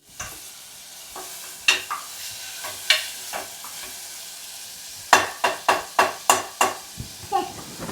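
Tomatoes go into frying onions for mushroom biryani, with a low sizzle under a quick series of loud, rhythmic spoon scrapes and taps against the pan, bunching into rapid strokes near the end.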